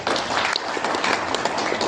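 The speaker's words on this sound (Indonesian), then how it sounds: "mari kita aplaus kepada FKUB dulu" Applause from a coordination meeting audience for the FKUB interfaith forum, many hands clapping steadily and fairly close for about two seconds.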